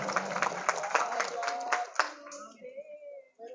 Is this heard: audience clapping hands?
yes